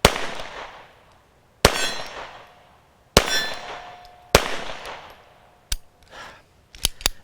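A Colt 1903 .32 pistol fires several sharp, loud shots spaced a second or two apart outdoors, each crack trailing off in a fading echo, followed by a couple of quicker closing clanks.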